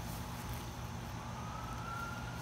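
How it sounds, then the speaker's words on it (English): Emergency siren heard from inside a tent while camping, a steady distant wail with a faint rising tone under low background rumble, no voices. "And then there's a siren."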